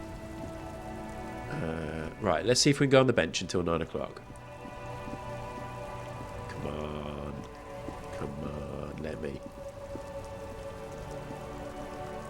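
Steady rainfall patters through an outdoor scene in the detective role-playing game Disco Elysium, with a person talking over it in bursts.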